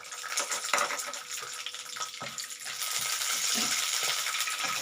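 Quarter cup of peanuts frying in hot oil in a kadai, a steady crackling sizzle with occasional stirring rattles, louder and denser toward the end.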